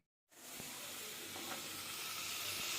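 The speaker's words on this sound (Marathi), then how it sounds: "आता फ्राईड राईस करू लागला हांव. कढीपत्ता, सांसव आणि गोबी आणि" Curry leaves and mustard seeds sizzling in hot oil for fried rice, a sudden loud hiss that starts after a brief silence and holds steady and close with faint crackles.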